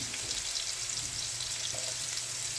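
Chopped garlic frying in olive oil gives off a soft, continuous sizzle and crackle, heard alone and fairly faint throughout.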